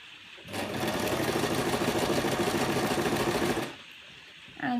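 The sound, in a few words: sewing machine stitching fabric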